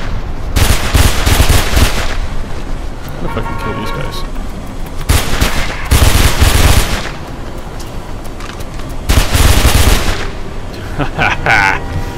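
Three loud bursts of submachine gun fire ring out in Mirror's Edge, each lasting over a second, separated by quieter game ambience.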